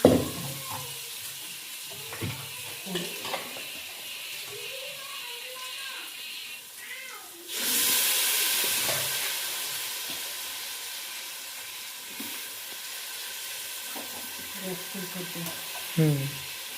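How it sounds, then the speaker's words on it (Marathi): Spices and masala fry in hot oil in a home kitchen, a steady loud sizzle rising abruptly midway and settling into a continuous hiss, with scattered stirring clinks and faint background noise. "मसाले तेला तळून घ्यायचे. त्याच्यानंतर हा मसाला थोडा टाकायचा."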